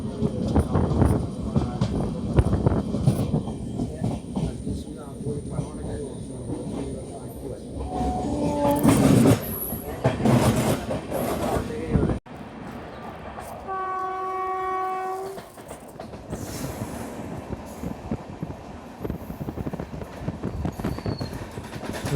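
Chennai to Kollam Sabarimala special train rolling along with a loud rumbling, rattling carriage noise, then a long, clear multi-tone horn blast sounds in the second half over the continuing rail clatter.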